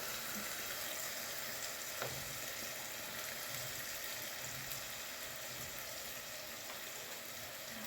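Potatoes stir-fry in a home kitchen pan with a steady, soft sizzle and hiss, faint and continuous, with an occasional light clink.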